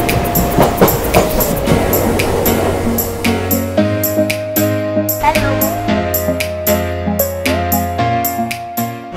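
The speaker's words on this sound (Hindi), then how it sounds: "हमारी ट्रेन रफ्तार बढ़ते हुए पहुंच चुकी है रामपुर स्टेशन" A passenger train runs at night gathering speed, with loud rhythmic clatter, rumbling and squealing tonal wheel noise close by throughout.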